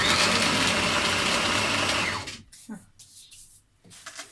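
Small food processor mincing meat for homemade döner, a loud steady whirring motor for about two seconds that then cuts off, leaving quieter clinks and handling sounds.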